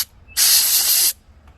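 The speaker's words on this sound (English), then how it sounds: "spray the needle off, and then spray off the little piece that the needle connects to" A single steady burst of aerosol cleaner sprayed onto the needle of a 2-stroke carburetor, a loud, close, bright hiss lasting under a second with quiet before and after.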